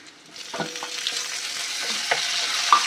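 Chopped onions and tomatoes sizzling in a pan for a Tamil dried-fish curry, with a steady soft frying hiss broken by several scraping stirs of a spoon, close and fairly quiet.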